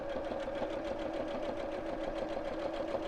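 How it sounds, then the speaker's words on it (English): A domestic sewing machine stitching a straight seam on a simple fabric wallet makes a steady, even mechanical whirr with rapid needle pulses, close and constant throughout. "do a reverse stitch at the top and the bottom just to make the seam nice and secure"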